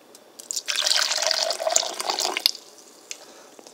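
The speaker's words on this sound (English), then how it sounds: "Then after that, you add in the water." Water pours into a tall cup, a soft continuous splashing fill that swells for about two seconds and then tapers off to faint drips.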